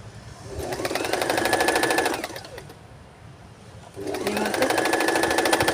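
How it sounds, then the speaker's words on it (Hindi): Sewing machine stitching baby cap fabric, running in two loud, steady bursts of rapid needle strokes with a brief quieter pause between them, close up and without talk. "और इस तरह से इसकी स्टिचिंग"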